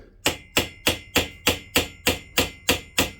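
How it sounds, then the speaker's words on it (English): A hammer peens a rivet on a lighter near its fuel tank, with ten sharp, evenly spaced metallic taps about three per second, close and clear, with no talking. "That's where I'm going to peen this down."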